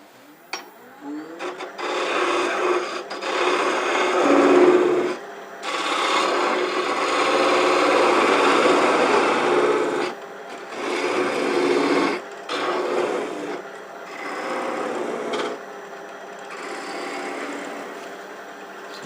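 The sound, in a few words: skew chisel cutting wood on a lathe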